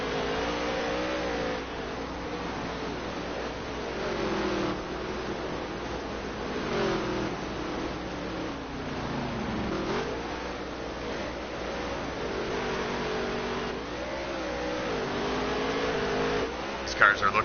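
Race car engines whine and rev unevenly on a dirt track in a racing video game. The revs rise and fall repeatedly over the whole stretch, a steady droning blend with a voice talking over it.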